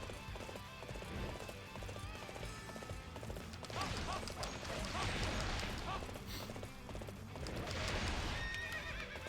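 Horse in the video game Dynasty Warriors 8 gallops with rapid hoof clatter and loud neighs, mixed with battle clashes and game effects, while a person talks over it.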